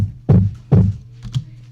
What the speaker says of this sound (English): So that's what that kick sounds like now.